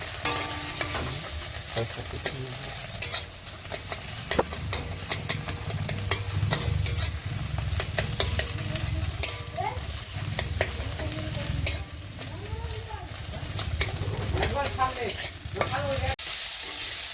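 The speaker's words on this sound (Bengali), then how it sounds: "এখন পেঁয়াজ ভাজা হচ্ছে" Onions frying in a pan while making homemade chow mein, with a steady close sizzle, repeated scraping and stirring clatter, and a low hum running underneath throughout.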